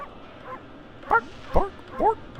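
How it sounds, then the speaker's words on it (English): Cartoonish dog barks from the Okami HD video game, three short bright yips spaced about half a second apart, near and clear over a faint background hum. "Bark, bark, bark, bark, bark, bark."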